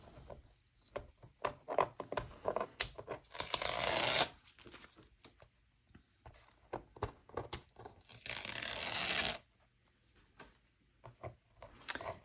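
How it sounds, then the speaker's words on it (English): Masking tape peeled off a watercolour painting of bull kelp, two long close tearing rips among smaller crinkling and scratching sounds, no talk. "Let's pull back the tape and see what we've got."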